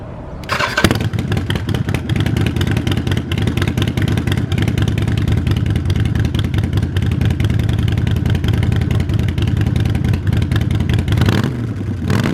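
Harley-Davidson Sportster motorcycle fitted with new exhaust gaskets starts up with a brief crank, then settles into a loud, steady, lumpy idle that rumbles close by for about ten seconds before cutting off.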